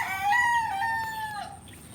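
Neighbor's rooster crowing once on a farm, a single clear, fairly near cock-a-doodle-doo rising and trailing off over about two seconds, with no voices.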